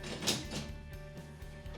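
A Bosch Series 4 dishwasher's Rackmatic basket drawer is adjusted up or down, giving close, short plastic-and-metal clicks and sliding knocks over a low background hum.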